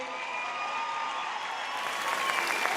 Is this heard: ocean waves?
no